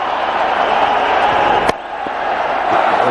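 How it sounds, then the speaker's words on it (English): A big cricket stadium crowd cheers and claps for Dhoni in a dense, continuous roar, with a sharp crack partway through and a brief dip before the noise builds again. "The clapping starts."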